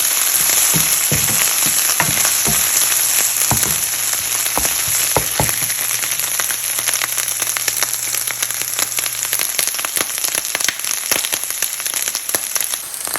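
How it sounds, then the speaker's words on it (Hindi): Goat liver frying in a pan with ginger garlic paste for a Pakistani-style dish: a steady, close sizzle with scattered sharp crackles and pops throughout, no talking. "इसमें 1 चम्मच जो है अदरक लहसुन का पेस्ट डाल देना। इसको भी हल्का सा हम करेंगे फ्राई।"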